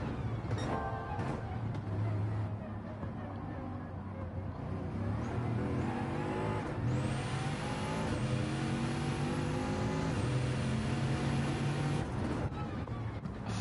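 Turbocharged race car in Gran Turismo 7 with a thousand-horsepower engine, heard as a sustained engine roar whose pitch climbs through repeated rising sweeps as it accelerates and shifts, loud and steady throughout.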